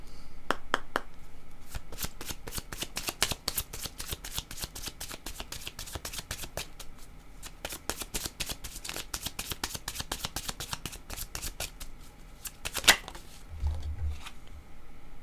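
Oracle cards shuffled briskly by hand, a dense crisp riffling with rapid flicks and slaps that run almost without pause, close and clear, ending with a sharper snap as a card is drawn.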